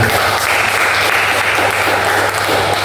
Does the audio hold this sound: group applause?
yes